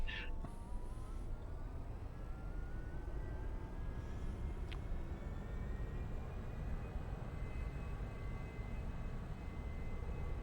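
A Boeing 747 taxiing in X-Plane 11 gives off a steady, continuous low engine rumble with a faint rising whine, holding even and unbroken for the full length with no speech.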